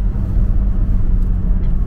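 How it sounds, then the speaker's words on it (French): BMW Z4 roadster engine idling or running steadily with the roof open, a continuous low rumble close by at even loudness with no talk. "Comme ça on entendra un peu plus le moteur."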